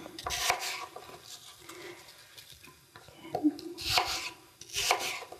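A knife chops apple pieces on a board in a few quick bursts of cuts, with quieter scraping and handling in between, close by.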